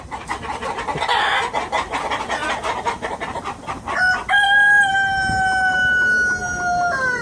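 Chickens and roosters of breeds including silkie-type fowl on a rural farm, loud close clucking and squawking from several birds followed by a long, clear rooster crow, with faint voices underneath.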